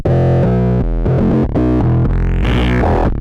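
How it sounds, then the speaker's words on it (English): Heavily distorted synth tones from several stacked distortions with low-pass filters between each play in a loud, continuous sequence of sustained notes, the timbre shifting and filtering brighter and darker as it goes. "One thing that I like to do when using several distortion is to put a low pass filter between each."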